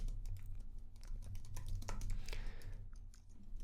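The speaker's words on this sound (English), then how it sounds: "I'm going to go ahead and type some text" Rapid, quiet keystrokes clatter on a computer keyboard in a steady, uneven patter of light clicks, close by with a low background hum and no talking.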